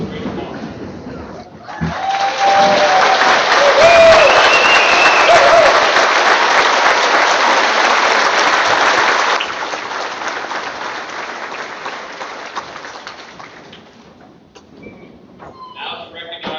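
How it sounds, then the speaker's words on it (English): A large graduation ceremony audience breaks into sustained applause for the standing parents of 2025 seniors, loud dense clapping that rises sharply, holds for several seconds, then fades away into quieter room noise. "give them a round of applause for this great honor"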